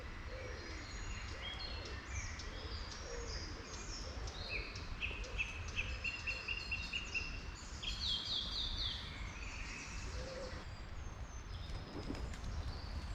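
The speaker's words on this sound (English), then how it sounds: "what I particularly love about this part of the woods, the bird song." Songbirds call and trill in the woods, with repeated bright chirping phrases over a steady rustling background of wind and footsteps.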